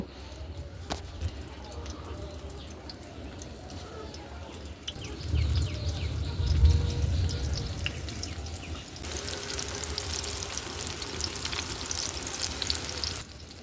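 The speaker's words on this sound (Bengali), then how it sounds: "হালকা গরম করেই আমরা চপগুলো একটা একটা করে সব দিয়ে দিব" Chop snacks made with puffed rice and egg fry in lightly heated oil, a steady low bubbling that swells midway and turns into a brighter, fuller sizzle for the last few seconds.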